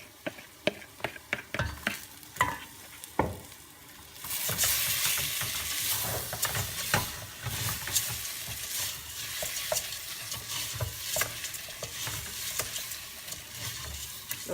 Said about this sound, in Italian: metto giù il riso che ho precedentemente lavato e lo faccio tostare, mescolando di tanto in tanto.